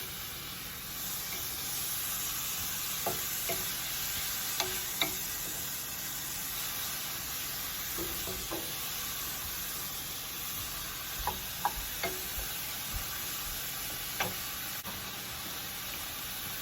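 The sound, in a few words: tossing beef and broccoli with oyster sauce in pan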